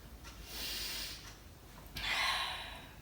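A child breathes out hard twice during jumping exercise, each a breathy, hissing gasp or snort up close. A short quiet pause separates the two breaths, and no one speaks.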